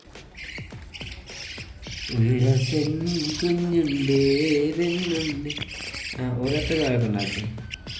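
Harsh, repeated bird squawks with higher chirps close by, a tonal calling sound sustained over several seconds, with a person speaking briefly in between.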